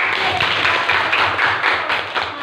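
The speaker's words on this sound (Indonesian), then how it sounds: "Tepuk tangan dulu, Nak" A group of schoolchildren claps hands together, steady and continuous at close range, with faint voices mixed in.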